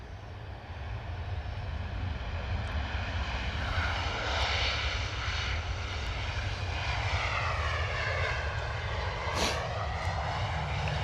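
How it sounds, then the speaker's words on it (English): A Ryanair Boeing 737 arriving from Naples lands and applies reverse thrust, a broad steady engine roar with a rising whine, moderately distant and without talk. "Not too much noise coming from that Ryanair on the reverse thrust, rolling a bit longer than the others."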